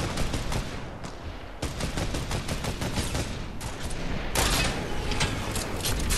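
Video game gunfire in a snipers-versus-runners match, rapid repeated shots in close bursts, broken by brief gaps and resuming louder, with no talking over it.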